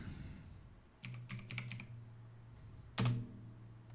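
Quiet clicks of a computer keyboard as a command is typed on a Windows 11 computer, a quick cluster of keystrokes followed by a single firmer press, close and alone.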